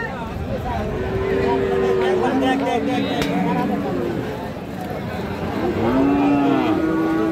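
Several long, low cow moos over a busy crowd of murmuring voices at an outdoor cattle market in Raniganj.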